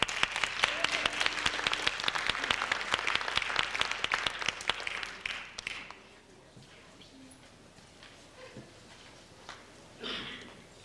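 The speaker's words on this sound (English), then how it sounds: "Let's give them a nice warm round of applause." Warm audience applause at a folk festival in Anchorage in 2000, dense clapping that holds steady for about six seconds and then fades to sparse claps and quiet murmur.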